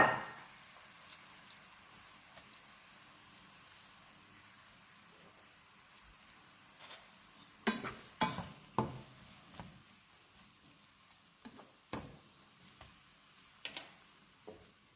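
Mushrooms stirred in a frying pan for a stuffed pumpkin dish, giving a low steady sizzle with scattered sharp clicks and scrapes of stirring toward the middle and end, fairly quiet and close, with no talking.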